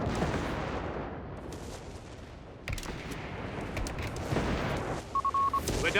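Artillery barrage in the strategy video game Company of Heroes 3 during a 3v3 match: continuous heavy rumbling shell impacts and booming blasts, with sharp crack at midpoint and a short electronic beeping tone near the end.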